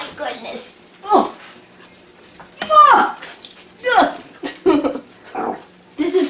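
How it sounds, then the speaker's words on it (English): An Australian Shepherd puppy, about a year old, whimpers and yips in several short, close bursts with soft whining between them, while someone talks and coos over him. "He's an Australian Shepherd."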